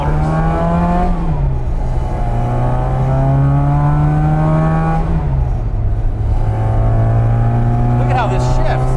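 A 1962 Austin Mini panel van with a 1098 engine drives under load, its loud, close engine drone steady throughout, with pitch drops at two gear shifts before it climbs again.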